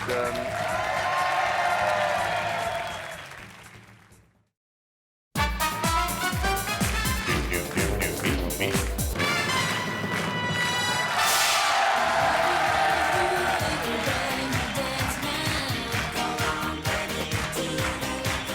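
A French TV game show studio audience claps and cheers loudly, breaks off into a short silence, then returns as a sustained wave of applause with music mixed in.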